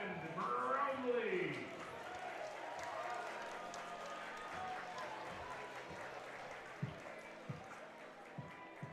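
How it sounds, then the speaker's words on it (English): Home crowd at an IBL baseball game in London applauds a batter stepping up, a broad murmur of clapping loudest at first and then easing back beneath a broadcaster's steady commentary, with a few sharp knocks near the end. "Brownlee gets a warm applause from the home crowd"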